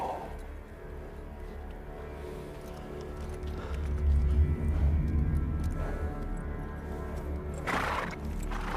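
A horse neighs over steady low rumbling, with a louder whinny rising near the end, close by.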